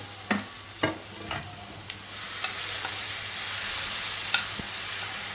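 Masala is stir-fried in oil for stuffed brinjal, with a few sharp spoon scrapes and clinks at first, then a steady, rising sizzle that fills the rest.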